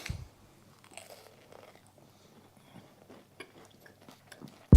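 Crunchy air fryer cheese straws bitten and chewed up close, an opening crisp bite followed by a run of irregular crunching chews, fairly loud against a quiet room with no talk.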